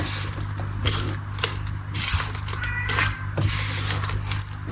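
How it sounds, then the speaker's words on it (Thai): A cat meows a few times, faint and intermittent, in an outdoor kitchen where black bean paste is being stirred into a dessert filling, over a steady low hum. "เสียงแมวร้อง"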